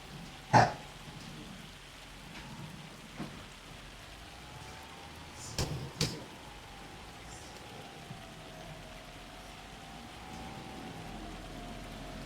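Steady rain patters on surfaces in the Farming Simulator 25 game, a soft continuous hiss. A few sharp knocks and a faint thin tone sit over it, and a dog barks briefly.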